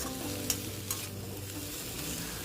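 Vegetables for a veg chowmein fry in a hot pan and are stirred, giving a steady sizzle with a couple of sharp scraping clanks from the spatula near the start.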